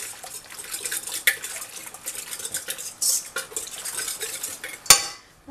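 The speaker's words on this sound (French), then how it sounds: "Je vais déjà mélanger ça." A spoon stirring a mixture in a bowl for an Alsatian tourte, giving intermittent scraping and clinking with a couple of sharper knocks against the bowl, close and moderately loud.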